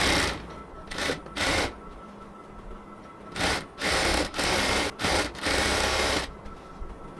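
A sewing machine stitching a salwar seam runs in repeated bursts, each a steady mechanical whir lasting under a second to over a second, separated by short pauses, close and alone.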